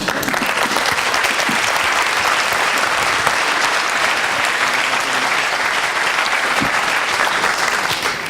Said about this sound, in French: Félicitations Laurent, on peut encore applaudir.